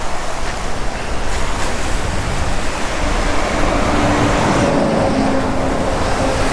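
Wild ocean surf crashes along the windward Oahu coast between Kailua and Kaʻaʻawa beside a coastal highway, a loud continuous roar of breaking waves mixed with gusty wind buffeting the microphone, with no voices.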